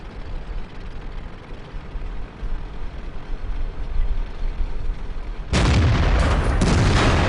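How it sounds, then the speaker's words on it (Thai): Tank cannon fire in a World of Tanks tournament match, a deep rumbling boom that swells into a loud, sustained blast near the end after several seconds of low engine and battle rumble. "มีการยิงอีกแล้ว"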